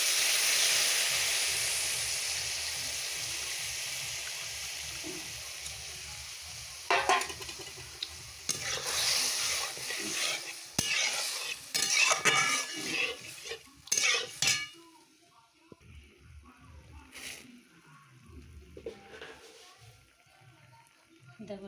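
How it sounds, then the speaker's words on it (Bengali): Fried papaya for a chutney sizzles in a pan as tamarind juice goes in, followed by a utensil clattering and scraping while stirring against the pan, close by, before it settles into quieter scrapes and a voice speaking. "পেঁপেটাকে একটু ভেজে নিয়েছি এবার তেঁতুলের রসটা দিয়ে দেবো"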